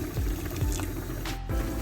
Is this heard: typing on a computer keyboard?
no